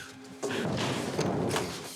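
A door is banged on with a sudden loud thump followed by a burst of rattling knocks, close and forceful, with no voices.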